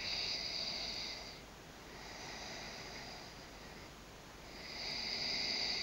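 Slow, audible yoga breaths during an Ashtanga vinyasa practice, soft airy hisses swelling and fading in long cycles, quiet and close with gentle pauses between exhalations.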